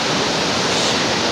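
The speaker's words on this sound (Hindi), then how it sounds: "ये सारा नीचे पानी जा रहा है" Water rushing steadily far below a mountain route on the Zhob road between Balochistan and Punjab, a loud, unbroken broadband roar with no pauses, heard alone.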